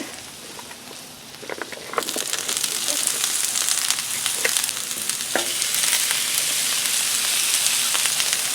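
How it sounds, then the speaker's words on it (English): Steady crackling sizzle of polska kielbasa sausage, peppers and onions frying on a Blackstone griddle, growing louder after a couple of seconds and continuing with faint scraping clicks. "I'm going to put my peppers and onions and sausage."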